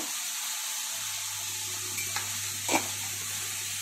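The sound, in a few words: spice paste (masala) being fried and stirred in a pan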